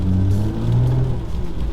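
A Nissan GTR R35 on summer tires revving as it spins donuts in snow, a loud close engine rumble rising and falling steadily through the short moment with no talk.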